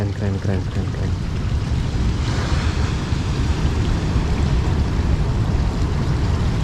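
Surf rolls in at Seruni Beach in Donorojo, Pacitan, a broad steady wash of waves with wind noise, loud and continuous, with no one speaking.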